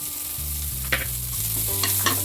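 Onion going into a hot pan with crispy fried cauliflower for Gobi Manchurian, giving a steady close sizzle with a few sharp scrapes and clicks as it is stirred, with no talking.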